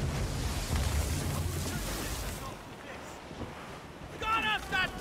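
Fierce wind at sea in Assassin's Creed Rogue, a loud gusting roar that eases partway through, then a voice speaks near the end.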